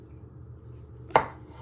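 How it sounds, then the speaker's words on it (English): A single sharp knife chop through a small chestnut mushroom on a cutting board, one crisp close thud and click after quiet kitchen background, no voices. "You'll need about 8 small chestnut mushrooms or butter mushrooms. And you just want to chop them in half"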